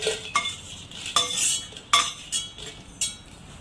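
Red chillies dry roasted in a pan without oil, stirred with a metal spoon that clinks and scrapes against the pan in irregular sharp knocks, close and clear with no talk.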